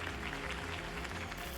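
Crowd applause at a political campaign rally in Batman: The Telltale Series, a faint, steady patter of many hands clapping that continues through the short stretch without audible speech.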